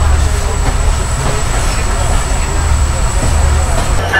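The Banglabandha Express train pulls out of a station on the Panchagarh to Rajshahi line, with a steady loud rumble of wheels and carriages and a thin high whine running throughout.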